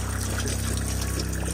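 Hot water runs steadily from a tap in a Ford custom camper, a continuous close hiss and trickle with a low pump hum underneath, no talking.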